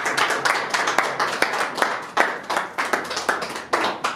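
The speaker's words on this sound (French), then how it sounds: "Est-ce qu'on peut applaudir?" Wedding guests at a couple's marriage ceremony in Johannesburg applaud steadily, a close, even patter of many handclaps lasting the whole stretch with no talking.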